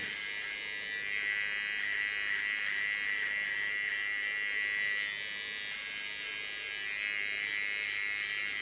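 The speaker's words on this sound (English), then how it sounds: "I just go in with a small clipper and make something beautiful for her" A small electric hair clipper buzzes steadily and close while shaving a woman's nape, a continuous high-pitched hum with slight fluctuations as it moves, with no talking.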